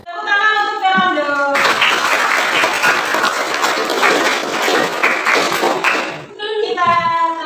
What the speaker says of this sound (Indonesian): Tepuk tangan untuk Fernando.